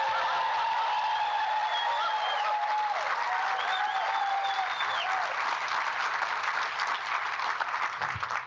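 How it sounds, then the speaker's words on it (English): Some 500 educators at a teachers' conference in Atlanta burst into loud, sustained applause, the dense clapping carrying a few faint whistles and cheers over it. "If you guys join me in a big round of applause as loud as you can."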